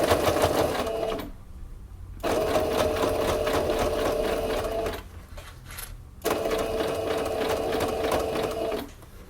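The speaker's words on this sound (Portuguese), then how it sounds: "Essa costura, gente, a gente vai fazer o mais possível na beiradinha do viés" A sewing machine stitches along the edge of bias binding, running in steady whirring bursts of rapid needle chatter broken by short pauses, close and clear.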